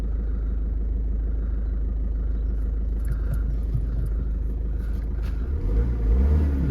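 A Ford Focus 1.5 TDCi diesel, manual, at about 112,000 miles, rumbles steadily at idle with a low diesel clatter, the engine note swelling louder near the end, heard close with no talk.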